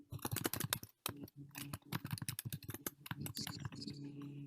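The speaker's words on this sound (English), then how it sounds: "I hear typing." Rapid, close keyboard typing clatters steadily with brief pauses, while a voice talks faintly underneath.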